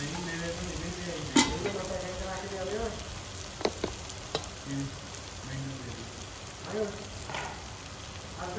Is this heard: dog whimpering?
no